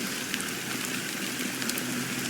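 Steady rain falls in a Penacony scene from Honkai: Star Rail, a dense, even hiss of drops that holds at the same level throughout with no voices.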